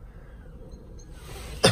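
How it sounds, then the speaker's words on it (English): A man coughs inside a car after a stink bomb prank, one short harsh burst at the very end following a quiet stretch. "Literally coughing his guts up."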